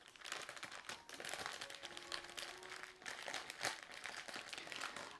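Crinkling plastic bag rustles steadily for several seconds, close and fairly quiet, with sharper crackles scattered throughout.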